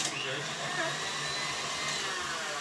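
Electric mixer whisking egg yolks with vanilla, a steady loud whirring drone with a constant tone that fills the whole moment.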